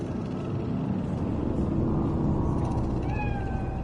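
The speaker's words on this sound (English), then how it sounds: "Do you see it? That cat?" A cat meows in the video game Cyberpunk 2077, a short rising-falling cry near the end, heard over a steady loud rumble of city traffic.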